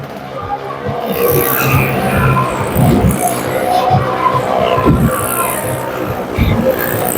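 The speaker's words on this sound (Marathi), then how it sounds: "पहा मित्रांनो दोन्ही गाड्या चालू झालेल्या आहेत फोर व्हीलर" Two four-wheeler cars running at a village fair, engines revving and churning amid a busy outdoor crowd, with bursts of noise around the third and fifth seconds over continuous background chatter.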